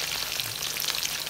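Steady, dense sizzling of chicken frying in hot oil, close and continuous, with crackling pops throughout and no voices.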